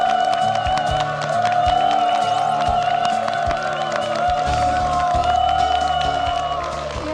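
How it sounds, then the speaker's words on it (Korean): A studio audience applauding to welcome a guest onto a talk show, a steady dense wash of clapping and crowd noise with music playing over it throughout. "여러분 뜨거운 박수로 맞아주시기"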